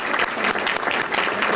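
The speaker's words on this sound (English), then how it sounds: "let's give those persons a round of applause" Steady, dense clapping from a crowd, loud and continuous throughout with no pauses.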